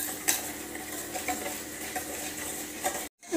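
Ghee or melted butter and jaggery stirred in a pan for a ragi-chocolate pancake, a steady clatter of spoon scraping metal with light clinks, close and continuous before a brief drop to silence near the end.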